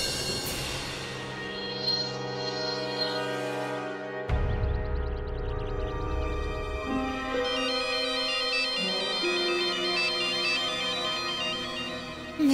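A telephone ringtone plays a loud, continuous electronic melody of repeating tones that shift pitch partway through, with no voices over it.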